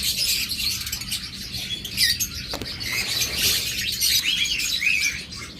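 A pair of creamino opaline pet birds chirps in a busy cage, dense high tweets and twitters running continuously and fairly loud, with a brief rustle partway through.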